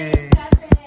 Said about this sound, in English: clapping, clapping